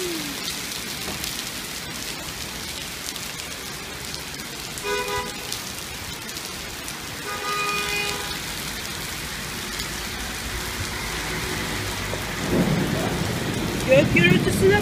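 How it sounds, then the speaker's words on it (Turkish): A thunderstorm brings steady heavy rain pattering on surfaces, with deep rumbles of thunder rolling in the middle and swelling louder toward the end. "Gök gürültüsüne bak."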